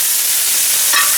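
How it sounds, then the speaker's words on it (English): Octopus cooking in olive oil in a pan, a loud, close, steady hiss of frying with a brief bright flare near the end, no talking. "you're gonna cook your octopus from olive oil"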